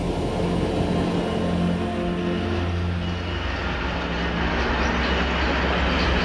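A heavy freight train rolling along rails, a steady dense rumble with low droning tones and faint clatter, continuous and fairly loud throughout with no voices.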